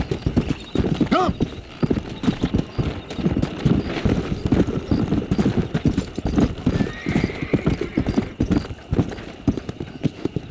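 Horse in Red Dead Redemption galloping with steady clip-clop hoofbeats throughout, a whinny near the start and faint voices mixed under the riding.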